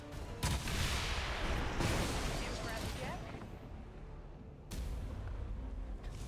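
Gunshots in modded XCOM 2 (War of the Chosen) as a soldier takes a flanking shot, two loud booming blasts a few seconds apart, with someone talking over the action.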